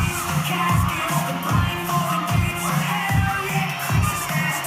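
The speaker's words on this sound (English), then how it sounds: "listen to this crowd" A live wrestling crowd in an arena roars steadily for the winner of a steel cage match at a Christmas Chaos event, the dense cheering rising and falling in rhythmic surges with no clear voice on top.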